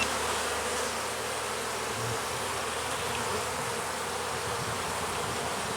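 Honeybees swarm around an open hive frame during a queen-marking inspection, a dense, steady buzzing drone that holds close and even from start to finish with no voices.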